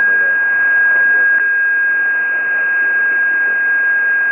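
Shortwave radio reception on an Icom IC-7610 or Kenwood TS-890 transceiver carries a steady, piercing carrier beat whistle over a hissy band-limited signal with muffled voice underneath, continuous and loud throughout.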